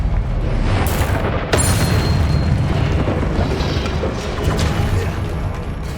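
A fiery Confringo spell blast in Hogwarts Legacy booms with a loud, sustained rumbling roar and crackling debris, a sharp crack near the start before the dense explosion noise carries on without voices.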